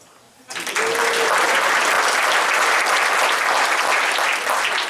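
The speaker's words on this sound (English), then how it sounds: "Please clap." Wedding guests burst into loud applause during a toast, the clapping starting abruptly after a brief quiet moment and continuing dense and steady to the end.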